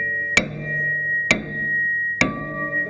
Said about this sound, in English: This is where our axe becomes a wedge. So we've got it into the door just a bit. Hammer it home.